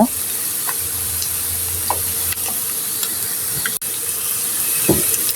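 Egg and bottle gourd with ginger frying in a pan make a soft steady sizzle, with faint stirring scrapes and occasional light clicks of a utensil close by.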